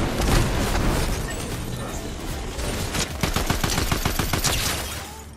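Gunfire in the video game Fortnite, a dense crackling fusillade throughout, with a quick run of sharp repeated shots near the end, close and loud.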